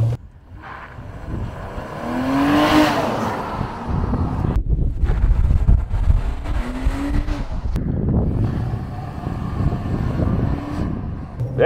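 A Nissan Pathfinder Rock Creek with its VQ V6 accelerates hard in sport mode, engine rising steadily toward 6,000 rpm under heavy wind and road noise, with a brief gear-change dip midway and no talking.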